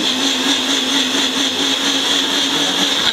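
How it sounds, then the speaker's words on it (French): Small blender mixing a whey protein shake, a steady high-pitched motor whir running loud and unbroken throughout with no talking. "pour préparer votre petit shaker de whey, vous pourrez utiliser ce petit mixeur"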